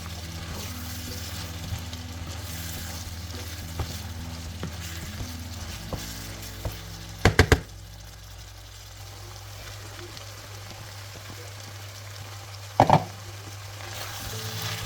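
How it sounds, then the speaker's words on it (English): Diced onion fries in a pan with a steady, low sizzle that runs throughout, broken by a couple of brief louder clatters partway through, with no talking. "cook the onion for about 1 to 2 minutes until they are nice and soft."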